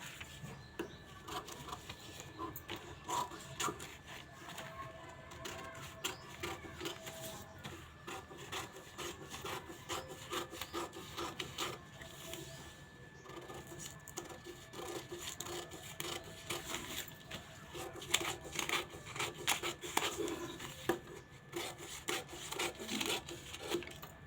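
Scissors snip through katori blouse fabric in a close, steady run of crisp cuts and rubbing strokes, with no one talking.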